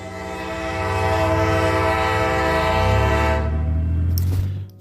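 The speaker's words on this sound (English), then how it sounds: "Let's get to our first train" A CN train on the Flint Sub rumbles past with a loud, sustained horn blast over the heavy rolling drone of locomotives, the horn cutting off near the end as the rumble carries on.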